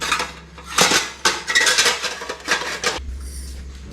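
Plates clatter and clink as they are handled close by, a series of loud irregular ceramic and metal knocks and scrapes, ending in a low rumble.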